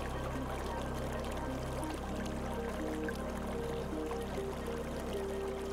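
Continuous gurgling rush of a small stream running over stones, steady and close, with sustained musical tones playing softly beneath the water.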